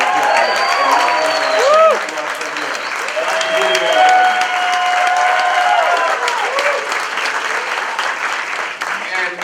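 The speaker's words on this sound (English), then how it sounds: "And so I just give her a round of applause." A large audience at a leadership summit applauds a speaker, a full, sustained wash of clapping with a few cheers, while a voice carries on over it.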